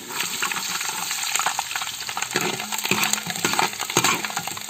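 Garlic fries in hot oil in a pan for Kerala dum chicken biriyani, giving a continuous close crackling sizzle with scattered metallic clinks of a spoon against the vessel and no one talking.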